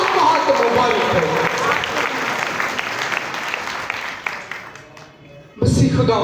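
A church congregation at a Pentecost Sunday Mass bursts into loud, sustained applause that holds steady for several seconds, fades briefly, then surges again at the end.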